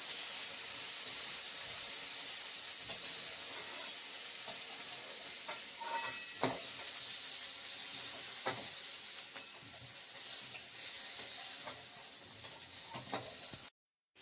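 Okra (bhindi) slices fry in a pan with a soft, continuous sizzle and hiss, dotted with a few faint stirring clicks before the sound cuts off abruptly at the end.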